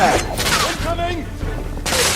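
A grenade blast in The Order: 1886 goes off amid a chaotic gunfight, with loud broadband bursts and booms under shouting voices and ongoing combat noise.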